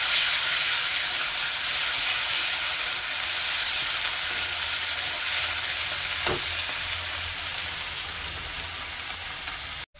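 Prawns fry in oil as they are stirred, a dense steady sizzle with a single scrape midway, fading slightly toward the end, no talking.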